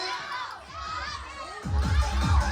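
Thai schoolboys at a National Children's Day step-dancing show cheer for their own class, a crowd of young voices shouting and whooping with rhythmic chanted bursts that swell louder in the second half.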